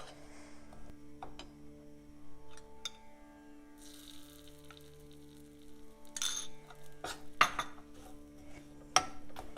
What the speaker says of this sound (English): Keep stirring the rava until the ghee is absorbed completely and all the particles are separate